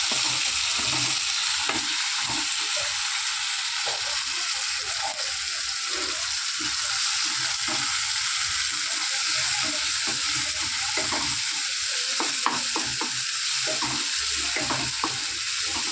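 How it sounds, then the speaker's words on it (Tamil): Sambar being tempered in hot oil gives a loud, constant sizzle and crackle up close, with occasional stirring clatter and watery splashes. "சாம்பார் தாங்க தாளிச்சு விட்டுக்கிறேன்"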